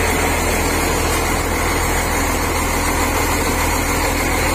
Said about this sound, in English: makina pala namin, guys, 350 horsepower Wetsay China